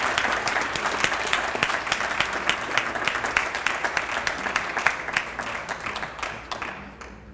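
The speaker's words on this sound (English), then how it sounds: "Let's give Patricia a big round of applause." Sustained applause from an audience at a school district's retiring staff reception, dense and fairly close clapping that carries for several seconds before thinning out toward the end.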